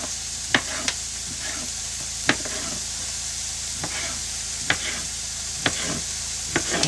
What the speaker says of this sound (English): those onions cooking right next to me are making my eyes burn